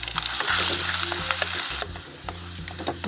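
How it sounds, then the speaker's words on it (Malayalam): Sliced ginger and garlic frying in hot coconut oil for a Kerala fish curry, a loud bright sizzle with stirring that drops to a quieter simmering crackle partway through; no talk. "ഈ ഇഞ്ചിയും വെളുത്തുള്ളിയും മൂത്തുട്ടാ"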